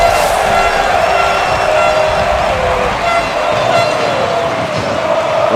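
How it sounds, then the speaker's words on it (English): An arena crowd at a Rocket League championship match roars in a loud, sustained wall of cheering, with horn-like tones and voices mixed in throughout. "The crowd is trying to get behind them."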